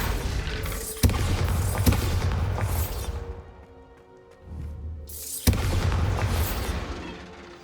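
Bombarda blasting spell explosions in Hogwarts Legacy, several sharp booms with rumbling tails, a lull in the middle, then another heavy blast followed by sustained rumble.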